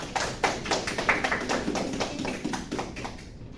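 A classroom breaks into applause, a dense patter of claps from a group of students, fairly close and steady, tapering off toward the end.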